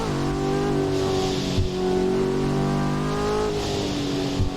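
Heavily modified 1000tipla car engine revving loud and close, a sustained harmonic roar that swells and dips with throttle blips, with no talk over it.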